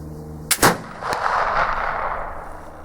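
A black powder muzzleloader fires a single loud shot outdoors, a sharp blast with a quick double crack followed by a long rumbling echo that fades away.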